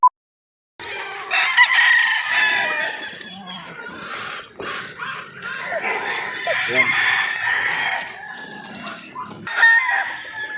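Roosters crowing and hens clucking among a group of imported gamefowl, loud and close with repeated calls throughout, while someone talks over them.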